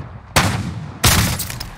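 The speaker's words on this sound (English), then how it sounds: "Taking fire!" Gunfire in a Call of Duty Modern Warfare Spec Ops co-op mission: two loud, close bursts of shots, each with a sharp onset and a rumbling tail, no talk.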